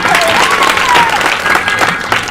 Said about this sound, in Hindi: तालियां बजाइए जोरदार।